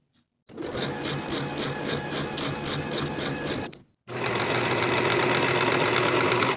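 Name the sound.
sewing machine stitching denim jacket sleeve seam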